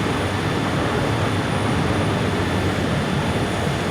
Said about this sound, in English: Let's try the helicopter, and we'll fly through the streets.